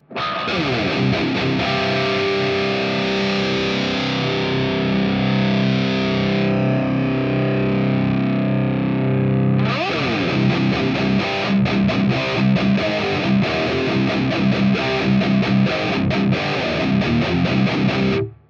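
Heavily distorted electric guitar through a Mars Mofo amp, heard from a single soloed cabinet mic, plays sustained chords and riffs, loud and close, with a brief pause in the middle before chugging rhythmic playing resumes.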